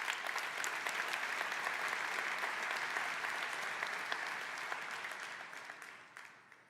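A large keynote audience at a tech summit breaks into dense, sustained applause, a wash of clapping that holds steady for several seconds and then gradually fades.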